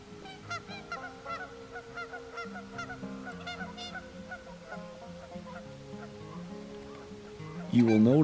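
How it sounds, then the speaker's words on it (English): Geese honk in a spring marsh at Elk Island, a busy overlapping chorus of nasal calls from several birds, steady throughout and swelling into a loud, close burst of honking at the end. "The groups of geese that you'll be seeing here are more than likely going to stay in the area"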